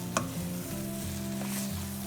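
Mashed brinjal fries in oil over a lowered flame, giving a close, steady sizzle with a brief scrape of stirring near the start.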